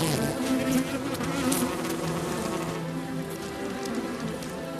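A dense, steady hum of many bees buzzing inside their hive, close and continuous, with a busy, crackling texture of wings and movement.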